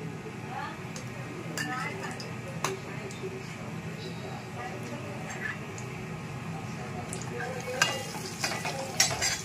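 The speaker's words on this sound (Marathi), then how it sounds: "तेल तापलंय. आता आपण कलरसाठी तरीसाठी 2 चमचे काश्मीरी लाल तिखट टाकूया." Kashmiri red chili powder added to hot oil for a Malvani chicken curry, giving a steady close sizzle with light clinks of a spoon against the pan while someone talks over it.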